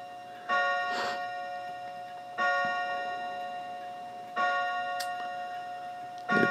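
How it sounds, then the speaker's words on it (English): A working clock keeps up a steady tick while a bright ringing chime sounds about every two seconds, each stroke decaying slowly. The sound is close and clear with no voices. "And here we have the clock chime."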